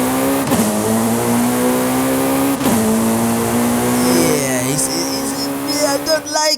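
A four-cylinder car in the racing game Forza Horizon 5 revs hard in a steady high drone with brief gear-shift dips, loud and sustained, ending in a quick flurry of engine pulses.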